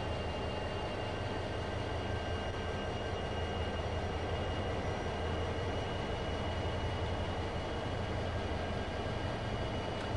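Mile-long freight train running in Train Sim World 2, a steady continuous low rumble of engine and rolling stock with faint sustained whining tones, even and unbroken throughout without speech.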